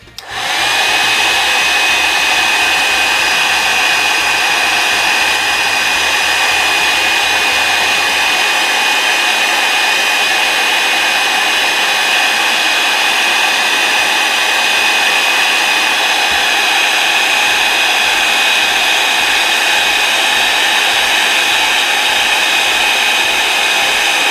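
A heat tool blows hot air onto embossing powder on a stamped card, a loud, steady whooshing hum that runs unbroken for the whole stretch with no talking.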